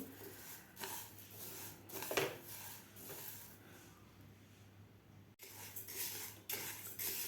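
Moong dal dry-roasted in a pan over medium heat for jaggery laddoos, repeated scraping and stirring strokes of a spatula with light metallic clinks, close and fairly quiet.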